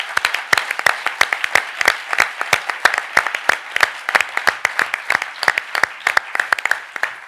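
Audience applause at the 2018 Lysias Paris I eloquence competition final: a small crowd clapping, steady sharp claps that stay moderately loud and fairly sparse, with no speech over them.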